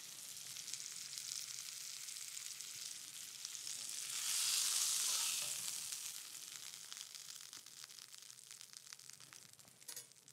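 Red mullet fillets fry in a hot pan, giving a steady crackling sizzle that swells louder midway and then settles back, with a few sharp pops and no voices.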